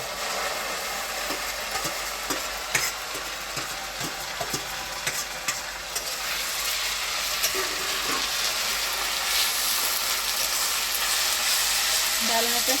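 Onion and green chili paste fries and sizzles in a pot of goat meat over a clay wood-fired stove, a steady close hiss with scattered stirring scrapes and clinks throughout, no talk over it.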